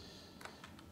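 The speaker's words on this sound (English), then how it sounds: "I'm going to type in my website name." Computer keyboard typing a website address, a few quick separate keystrokes close by over a quiet room hum.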